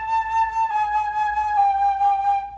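A single sustained tone holds steady with an even, pulsing vibrato that wavers in a regular, mechanical rhythm.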